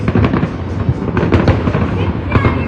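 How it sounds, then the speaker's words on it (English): New Year 2022 fireworks over JBR in Dubai, a dense, continuous barrage of loud booms and crackles, with people talking faintly underneath. "Oh, non-stop firework, non-stop."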